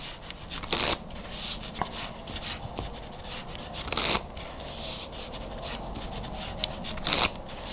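A dealer shuffles a deck of playing cards at a casino table game, close to the microphone. Three sharp riffle bursts come about three seconds apart over continuous soft rustling and sliding of cards.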